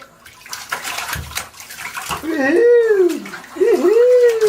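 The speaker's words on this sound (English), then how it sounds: "Daddy, splash your face" Water splashing in a bathtub as a small child slaps at the bath water, a few short splashes between a child's chatter and an adult's cheerful voice close by.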